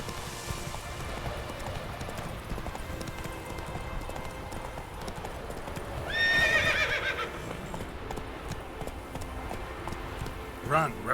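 Roach, a horse in The Witcher 3, galloping with steady hoofbeats and a whinny partway through, mixed with game sounds and a voice talking over it.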